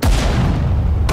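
Artillery fire from the Sudden Strike 4 war game, a single loud, heavy boom with a deep rumbling tail that fills the short moment before a sharp cutoff.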